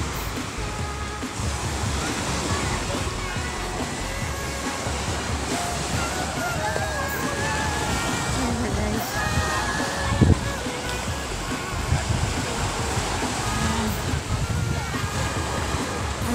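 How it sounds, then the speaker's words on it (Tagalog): Strong ocean waves roar continuously in a dense, loud wash of surf on the Zambales coast, with wind buffeting the microphone and faint voices in the background. "So yun guys, lakas ng alon."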